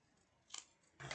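Scissors snip through paper twice in quick succession, soft and close in a quiet room, the second cut longer and louder.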